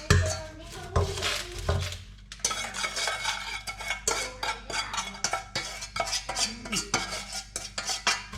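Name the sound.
stirring homemade popcorn in a pot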